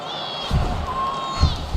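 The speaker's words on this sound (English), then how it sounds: "the crowd absolutely loving it as these fighters work their way back to the feet" An arena crowd in a UFC video game roars and cheers in a brief, loud swell, with a couple of dull thumps within the noise.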